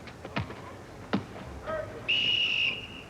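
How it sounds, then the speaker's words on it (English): A referee's whistle at a 1987 Superstars final sounds in one sustained, shrill blast lasting about half a second, preceded by scattered thumps and taps in an open, noisy venue. "There's the whistle."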